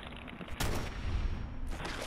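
Bursts of service rifle gunfire in the game Fallout 4, loud shots ringing out around 0.6 s and again near 1.7 s over a dense, rumbling game background.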